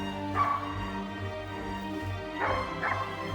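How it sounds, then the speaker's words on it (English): A hunting dog barks during a driven wild boar hunt in Hungary, with a short yelp near 0.4 s and two more close together around 2.5 and 2.9 s. A steady low rumble of outdoor noise runs underneath. "Is that the dog? That's the dog right there."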